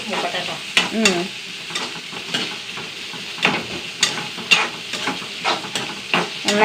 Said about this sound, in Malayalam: ഒന്ന് വഴറ്റിയെടുക്കണം അതൊന്ന് നന്നായി